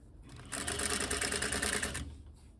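A sewing machine stitches a drapery hem, folding the raw fabric edge to the fold line; a quiet pause gives way to a brief, steady, close mechanical whir of rapid stitching that lasts about a second and a half before stopping.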